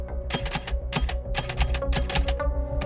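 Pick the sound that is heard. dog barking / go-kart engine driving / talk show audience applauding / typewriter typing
typewriter typing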